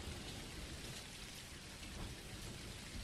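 Steady, dense rainfall in the video game Dinkum hisses evenly throughout, unbroken and without voices.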